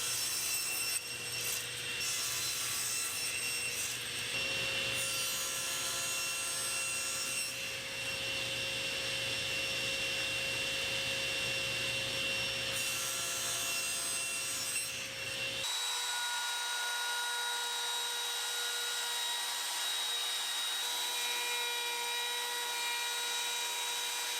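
A power saw cuts wood pieces down to size while building a pocket hole jig workstation, a loud, steady whining cut for about fifteen seconds, then dropping to a quieter motor hum as the blade spins down.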